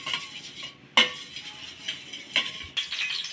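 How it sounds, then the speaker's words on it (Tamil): Beaten eggs with salt are whisked in a bowl: a soft, busy swishing broken by a few sharp clinks of utensil against the bowl, close up and without speech. "நம்ம உடச்சி வச்ச முட்டையில் உப்பை கொஞ்சம் சேர்த்து நல்லா அப்படி மிக்ஸ் பண்ணி விட்ருங்க"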